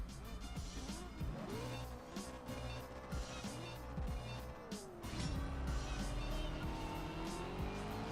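A race car in the video game CSR Racing 2 revs hard and accelerates, with engine pitch sweeping upward through repeated gear shifts and sharp tire squeal, loud and busy with layered game sound effects.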